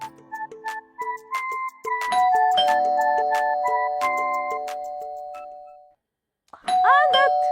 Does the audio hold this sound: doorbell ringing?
yes